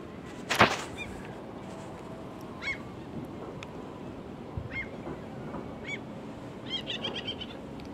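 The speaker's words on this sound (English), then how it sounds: "Birds are returning, ospreys, swans, and so on." Birds returning in spring, such as swans, give distant honking calls, scattered and faint over a quiet outdoor background, with one louder sharp burst early on.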